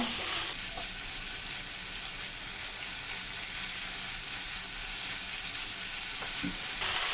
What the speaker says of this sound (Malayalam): അതിനുശേഷം രണ്ട് മിനിറ്റ് നമുക്ക് ഹൈ ഫ്ലെയിമിൽ ഒന്ന് വഴറ്റി കൊടുക്കാം